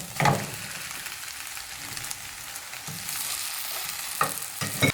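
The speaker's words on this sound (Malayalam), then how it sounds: "ഇനി ഇതിലേക്ക് നമുക്ക് വേവിച്ച് വെച്ച കപ്പ് ഇട്ട് കൊടുക്കാം" Cooked tapioca is stirred into egg masala in a pan. A soft, continuous sizzle carries a few distinct spoon knocks and scrapes at the start and the end, with no voices.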